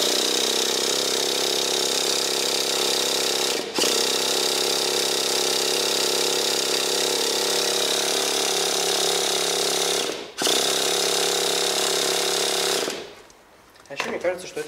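A Traxxas Slash Nitro 2WD radio-controlled car's nitro engine running at a loud, steady, buzzing idle, briefly dipping twice and cutting out near the end, leaving quiet handling noises.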